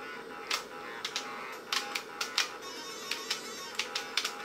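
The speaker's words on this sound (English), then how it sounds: "I'm now playing Doom on an XT keyboard." Keys on an IBM XT keyboard click sharply during a Doom session, about fifteen scattered presses in irregular bursts over a steady background hum.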